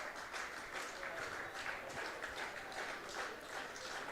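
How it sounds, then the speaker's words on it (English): Baseball crowd in the top of the second inning of an Intercounty Baseball League game, Toronto Maple Leafs at London Majors, clapping and cheering steadily from the stands, faint and distant throughout. "Fans trying to cheer on Arias here to get through this top half of the second inning"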